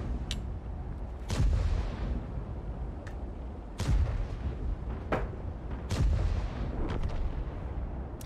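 Heavy tank cannon shots from a World of Tanks match boom at irregular intervals, about five sharp blasts with decaying rumble, over a steady background of battle ambience and no talk.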